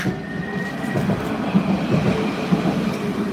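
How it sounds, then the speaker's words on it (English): A Nottingham tram rumbles along its rails at a tram stop with a steady low clatter and faint rhythmic clicks, heard from close by. "This is tram 235."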